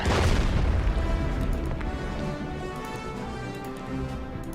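A deep, booming blast from a bombing strike in the wartime strategy game Order of Battle: Burma Road, loud at the start and rolling into a long, rumbling decay with faint ticking on top.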